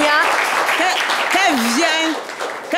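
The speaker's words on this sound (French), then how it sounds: "Applaudissez." Studio audience applause on a live French-language variety show, a dense steady patter filling the room for a few seconds, with a voice calling out over it near the middle before the clapping thins toward the end.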